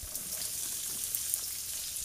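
Red chilies and spices frying in hot cooking oil give a steady, close crackling sizzle with small scattered pops throughout and no voices.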